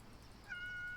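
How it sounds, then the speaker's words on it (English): A single faint, drawn-out meow from the Void Kitty, a cat in the game Yes, Your Grace, rising partway through and holding steady over quiet background hiss. "Marvelous Void Kitty."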